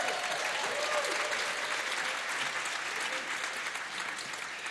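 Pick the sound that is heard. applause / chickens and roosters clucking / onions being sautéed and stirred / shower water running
applause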